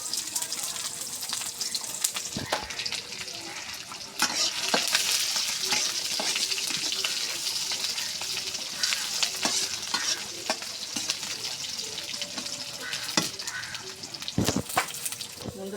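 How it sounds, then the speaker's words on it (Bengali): Onion, garlic and chilli sizzle steadily in a pan while a spoon stirs and scrapes in sharp repeated strokes, close and moderately loud throughout. "পেঁয়াজ রসুন মরিচ সুন্দর করে ভাজা হয়ে গেছে।"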